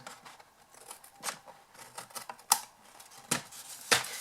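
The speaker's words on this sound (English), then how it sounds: "just get your scissors and trim it off" Several sharp snips of scissors cutting paper, spaced irregularly with quiet rustling between, close by.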